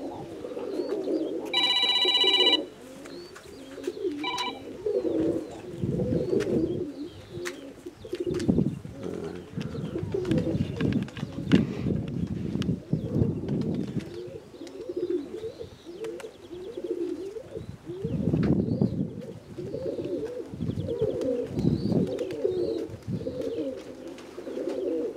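Pigeons, including white-tailed birds kept in a dovecote, coo continuously in low, throaty, overlapping calls from close by, with a brief electronic ringing tone near the start and scattered rustling throughout.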